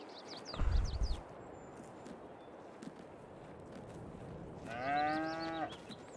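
A cow in Farming Simulator 22 lets out a single drawn-out moo near the end. Earlier there is a low thump and soft farmyard ambience, with no voices.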